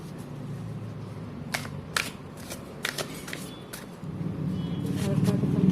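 Tarot cards being shuffled for a reading, a few quick riffling bursts and soft taps standing out against a low background rumble, with a voice speaking over them.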